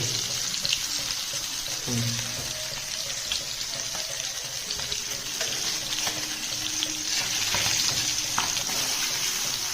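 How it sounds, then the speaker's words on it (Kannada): Mackerel fries in coconut oil on a flat pan, a steady close hiss of sizzling with scattered small pops and crackles that continues without a break. "ನೋಡಿ ಹೇಗೆ ಫ್ರೈ ಆಗ್ತಾ ಉಂಟು ನೋಡಿ ಬಂಗಡೆ."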